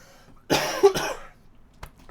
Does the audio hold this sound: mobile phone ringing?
no